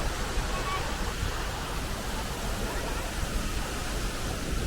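Athirappilly waterfall in full surge after the dam upstream was opened, a steady, dense roar of heavy falling water filling the whole scene with no break.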